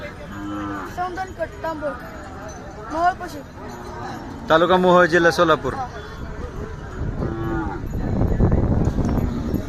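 A big Khillar bull moos repeatedly among cattle at the Kartiki fair in Pandharpur, its drawn-out calls rising near and loud through steady crowd noise, with someone talking throughout.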